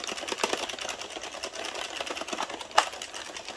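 An Addi Express knitting machine cranks out rounds of a green and red beanie, two strands of yarn at once, producing a close, rapid mechanical clatter of needles and carriage with a brief louder clack near the end.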